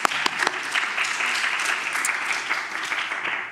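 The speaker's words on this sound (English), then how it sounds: "Applause, please." A conference audience applauds at a health sciences event, and the dense, even clapping from many hands holds steady and fairly loud for several seconds without talk.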